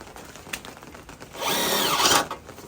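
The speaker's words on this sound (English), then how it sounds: "Put in some screws to hold the outlet in place." Power drill driving screws to mount an outlet in a barn gutter installation, a short whirring burst of about a second rising and falling in pitch, preceded by faint handling clicks.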